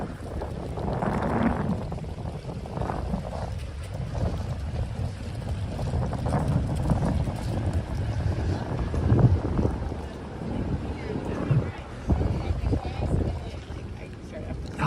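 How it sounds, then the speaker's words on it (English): Strong gusty wind whipping through Manhattan streets on a Thanksgiving weekend, a steady roaring rush with buffeting bursts against the microphone throughout, with talk heard over it. "It's so windy."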